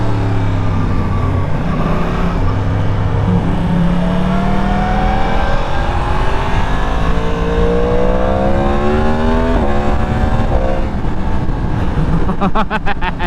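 Yamaha MT-09 motorcycle engine revving while riding, its steady drone rising and falling in pitch through gear changes, loud and close throughout, with wind noise.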